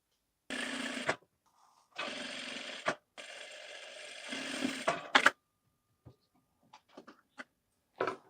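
A sewing machine stitches folded piping onto a blouse in three bursts of running motor whir separated by short pauses, ending with a few faint clicks and knocks, close and alone without talk.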